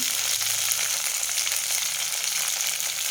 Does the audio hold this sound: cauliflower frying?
yes